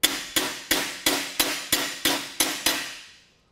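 Eight sharp, ringing hammer blows strike thick sheet metal on an anvil in a steady rhythm, each one loud and close with a short metallic decay, and the last ring fades out.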